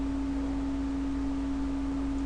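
A mobile phone message notification sounds as a steady, pure electronic tone that holds for about two seconds, fairly quiet, over faint background hiss.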